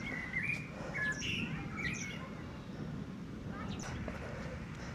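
Several birds chirp and whistle in short bright phrases in the city of Suceava, Romania, over a constant low outdoor rumble, with a voice speaking quietly in the background.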